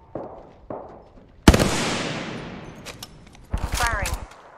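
Gunfire in the Apex Legends video game: a few separate shots, then one loud blast with a long decaying tail, followed by a rapid burst of fire near the end.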